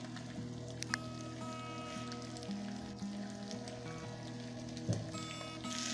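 Tilapia fish and onion frying in oil, a soft continuous crackle with occasional pops under a faint background hum.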